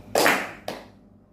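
Two sharp hand claps from a group playing a classroom clapping game, the first a broad burst and the second softer about half a second later, each with a short decaying tail.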